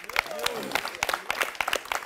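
Live studio audience clapping at the close of a Kenyan TV variety show, a dense run of sharp claps with voices calling out over it.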